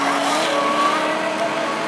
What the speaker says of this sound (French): retrouve dans les roues de Romain Dangeard, se retrouve même à côté de Romain, l'attaque au freinage